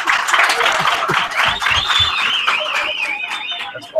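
Live audience at a makers' podcast recording on location at Makers Central claps and cheers, applause swelling under talk, with a whistle-like rising and falling tone over the crowd.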